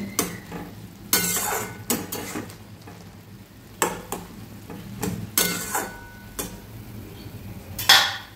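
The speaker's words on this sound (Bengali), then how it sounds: "সব একসঙ্গে ভালো করে মিশিয়ে নেব।" Spoon stirring and mixing food in a kadai, with repeated scraping strokes and metal clinks against the pan at an irregular rhythm, close and moderately loud, over a low steady background hum.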